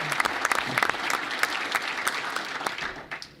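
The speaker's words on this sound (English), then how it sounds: "he deserves a huge round of applause" Senate Democrats applauding Harry Reid at a meeting with President Obama, a steady close round of many hands clapping throughout, alone and without talk.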